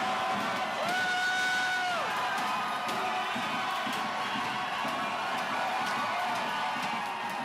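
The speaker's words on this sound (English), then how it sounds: "this is a video, by the way, of a crowd rushing into the Wisconsin Capitol doors" A crowd rushing into the Wisconsin Capitol building makes a continuous, reverberant roar of many voices indoors, with shouts and whoops rising out of the din.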